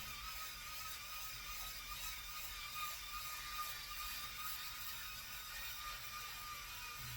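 A steady electric buzzing whir of a Microtouch Titanium head shaver runs continuously and evenly at low volume throughout, with no pauses.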